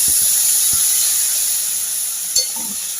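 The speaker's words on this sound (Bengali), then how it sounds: "আমি এবার এখানে জল অ্যাড করব।" Water poured into a hot pan of frying tomato and potato for a home-style posto dish sets off a loud, steady hiss of steam that slowly fades, with a few faint clinks at the start.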